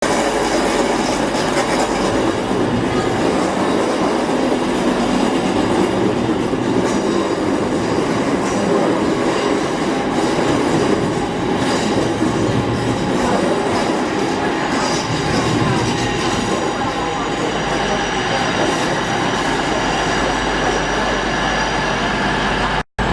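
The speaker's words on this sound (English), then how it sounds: "My train is a horrid juggernaut." A train rumbles steadily along the rails in Birmingham, loud and close, with a continuous rolling roar and faint rhythmic clatter of wheels throughout, ending in an abrupt cut.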